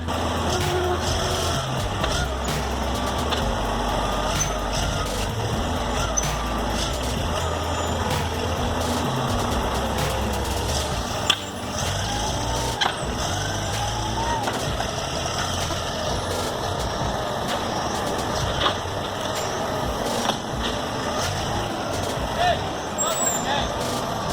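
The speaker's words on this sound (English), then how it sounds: "Here we see a fully loaded log truck making its way down a dry, dusty road." A fully loaded log truck hauling a trailer rumbles steadily along a dry, dusty road, its engine droning continuously with occasional knocks and clatters; a voice talks over it.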